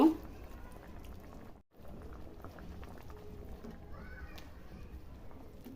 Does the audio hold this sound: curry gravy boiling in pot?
yes